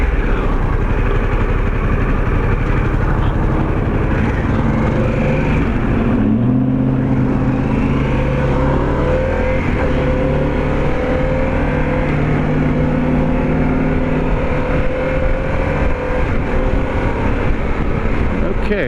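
A 2021 Harley-Davidson Pan America motorcycle cruises along a highway, its engine a steady, loud drone under heavy wind rush, with a gear change and rising pitch partway through and speech briefly mixed in.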